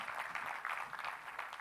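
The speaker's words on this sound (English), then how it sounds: "Have a big round of applause for those beautiful women." An audience at an Ignite 2025 event claps for a group of women, a steady wash of many hands applauding throughout without a break.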